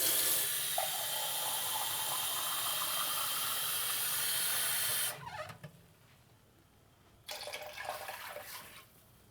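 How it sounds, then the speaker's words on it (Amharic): Water poured from a container into a pot of cooking corn kinche, a steady splashing stream for about five seconds that cuts off, then a quieter, hissing burst of pouring after a pause. "እንደገና ለማብሰያ የሚበቃውን ውሃ መጨመር አለብንና አሁን በዚህ አንድ ውሃ እጨምራለሁ።"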